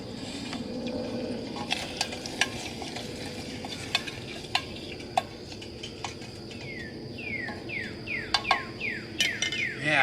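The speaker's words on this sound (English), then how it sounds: "Start browning off some sausage." Sausage browns in a pan over a campsite stove, giving a continuous sizzle with sharp utensil clinks and scrapes, while chirping insects and outdoor ambience sit in the background.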